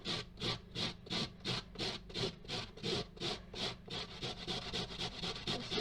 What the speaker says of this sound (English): I've left the end on while I grate, so I've got something to hold on to